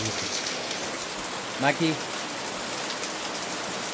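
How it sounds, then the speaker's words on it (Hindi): Heavy rain pours steadily in a broad, dense hiss throughout, with a brief spoken word heard near the middle. "घर पहुंचते ही बारिश का कहर शुरू हो गया है, देख सकते हैं"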